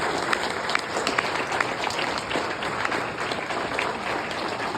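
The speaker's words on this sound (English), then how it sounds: "One more round of applause for Mary" Steady applause from a crowded audience at a university alumni gala awards ceremony, dense clapping that holds evenly loud and close throughout with no pauses.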